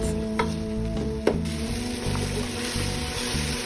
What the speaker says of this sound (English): I'm going to stir this and I'm going to fry this for a good 2 minutes.